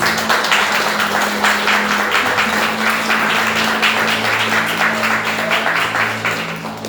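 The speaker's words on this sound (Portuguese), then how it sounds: "Vamos receber uma Sara com palmas para Jesus?" A church congregation applauds during an evening worship service, steady dense clapping filling the whole stretch at close range over a sustained low organ or keyboard drone.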